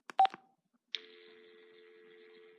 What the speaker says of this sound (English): There's a dial tone.